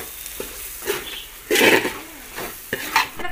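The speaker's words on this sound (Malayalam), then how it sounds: "ഗരം മസാല ഇനി നമ്മുടെ ചിക്കൻ മസാല ആവശ്യത്തിനുള്ള ഉപ്പ് ഇനി ഇതെല്ലാം കൂടെ നമുക്ക് ഒന്ന് ഇളക്കിയെടുക്കാം" Chicken masala and salt are stirred through a pan with a spoon, giving repeated scraping strokes and clinks at an irregular rhythm over a light sizzle. One louder, longer scrape comes midway. No voices.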